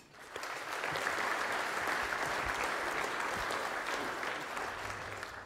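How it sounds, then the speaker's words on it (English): An audience at a book launch applauds a guest speaker being welcomed to the stage, steady clapping that swells quickly after a brief start and holds evenly throughout. "Please put your hands together for Eddie Maguire."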